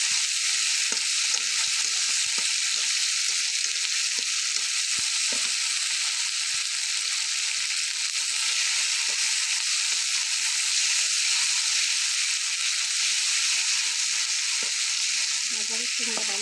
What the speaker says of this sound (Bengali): এখন দিয়ে দিব আমি রসুন বাটা, আদা বাটা, এগুলো আমি ভালো করে কষিয়ে